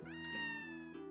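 Cat meowing in a video game, a single drawn-out meow with rising pitch, clear and close, heard alone.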